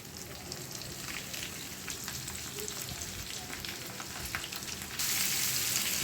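Finely chopped onions for onion pickle sizzling steadily in a hot pan as they sauté toward golden brown, a continuous crackling fry with no voices, growing a little brighter near the end.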